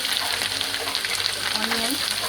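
Chopped garlic and ginger fry in hot oil in a pan, giving a loud, continuous sizzle with faint stirring scrapes throughout.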